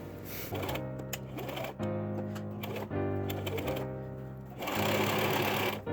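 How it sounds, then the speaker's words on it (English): A sewing machine stitching a fabric skirt tier, a fast continuous mechanical whirring in several bursts with brief pauses between them, near and steady with no speech. "I'm just gonna sew it on, I think."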